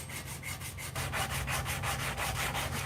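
Sandpaper worked by hand rather than with a power sander rasps in quick, rhythmic back-and-forth strokes, loud and close, growing a little stronger partway through with no voices.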